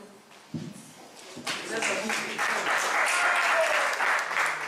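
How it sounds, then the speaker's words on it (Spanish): An audience at a workshop breaks into applause after a pause, starting with a few scattered claps, then swelling into steady clapping that continues to the end. "A todos aplauden."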